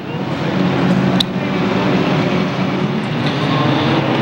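Formula 4 four-cylinder race cars run at Seekonk Speedway, a steady broad roar of engines from the pack holding through the whole stretch with no talk.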